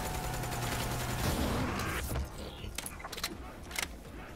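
Video game gunfire crackles in a dense fusillade of shots with mechanical clatter, loud at first and then dropping to scattered, fainter bursts.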